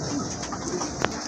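White Indian Bombay pigeons cooing at close range, soft repeated throaty coos over a steady background hum, with a brief sharp click near the end.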